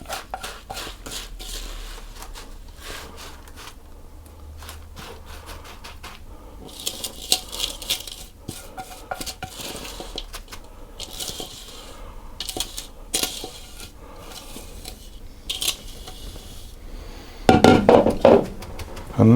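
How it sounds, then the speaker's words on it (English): Bar mixture tipped into a prepared baking tin, with scattered small clinks and scraping taps against the tin, growing busier and ending in a louder rattling scrape, close by and with no talking. "I'm actually going to tip it into my prepared tin"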